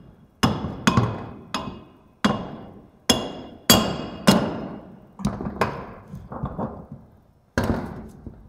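Hammer blows strike wood in an uneven series, each one a sharp, ringing impact that fades before the next. About a dozen hits land close by, in a workshop.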